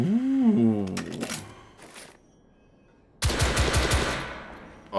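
Gunfire from an SMG in The Order 1886, a dense burst of rapid, loud shots after a stretch of near silence, with a brief voice and a few sharp clicks earlier.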